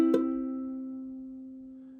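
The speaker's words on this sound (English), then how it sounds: "make sure the fretted note is ringing out, or it'll sound like this" One ukulele strum whose fretted high note is muted, leaving a single quick attack and then a lone low tone fading slowly, close and quiet.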